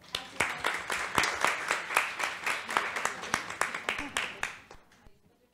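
Audience applause at a panel event on women in management, technology and inclusion: a steady burst of clapping from a room of people lasting several seconds, then tapering off into quiet.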